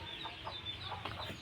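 Chickens roam around a village house, giving faint soft clucks scattered through a low, steady background with no talking.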